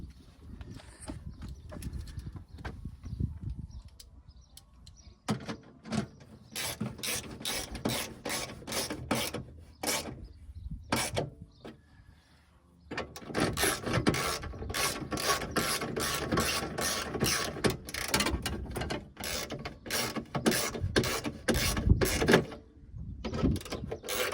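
A ratchet wrench tightens bolts on the rear window motor of a WJ Jeep Grand Cherokee, with rapid, close metallic clicking in bursts and pauses between runs.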